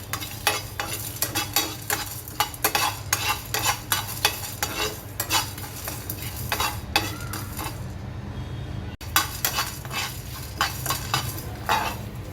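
A spatula scrapes and clinks against a pan while whole spices, cloves and a cinnamon stick are dry-roasted for a dhaba-style egg curry masala, with rhythmic stirring strokes over a faint low hiss.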